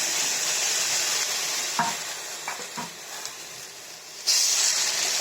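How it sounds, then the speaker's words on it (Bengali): Prawns frying in a pan after chillies have been fried, a continuous bright sizzle and hiss with a few soft scrapes of stirring and a sudden louder burst of sizzling near the end. "চিংড়ি মাছগুলো একটু ভেজে নেব আর দেবো একটু লবণ।"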